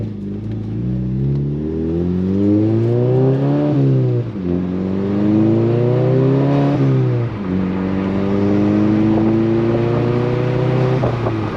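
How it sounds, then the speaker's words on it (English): An MK6 Volkswagen Jetta GLI accelerates on a test drive after a control arm replacement, its engine note climbing steadily through three gears with two distinct shift dips, loud and continuous from inside the car. "let's go for a test drive and see how the car feels."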